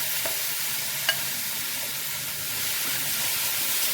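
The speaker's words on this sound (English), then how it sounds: "Give this a good stir." Saltfish and okra fry in butter with a steady, close sizzling hiss and a couple of soft stirring clicks.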